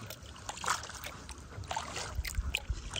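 A boat paddle dips and strokes through water, giving soft splashes and drips at an uneven pace, faint and close with light wind and no talking.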